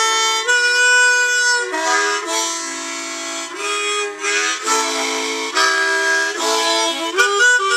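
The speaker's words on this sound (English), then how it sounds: "Harmonica." Harmonica plays a bluesy melody of sustained, bending chords and single notes, loud and close, alone without voices for the whole stretch.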